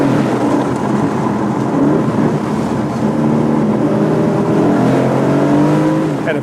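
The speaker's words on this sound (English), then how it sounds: "I really want to hear this V8." Aston Martin V8 Vantage engine heard from inside the car with the windows down, a loud continuous roar with rising and falling revs and harmonic sweeps throughout, no talking.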